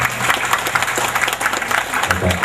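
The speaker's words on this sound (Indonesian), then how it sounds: "Kita tepuk tangan menurut saya." Audience applause at a 2008 Adventist hospital event in Manado, a loud dense round of clapping from a crowd, with a voice over it.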